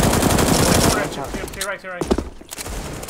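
Desert Eagle pistol shots in Counter-Strike on de_inferno ring out as a dense, loud burst of gunfire over the opening second, followed by someone speaking amid softer game sounds.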